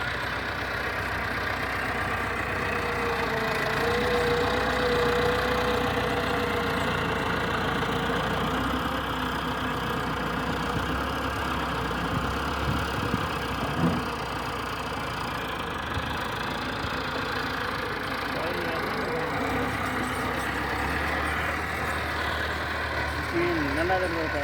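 A tractor engine runs steadily throughout, overheating with a fire, its continuous mid-to-low rumble holding at a constant level with faint background activity.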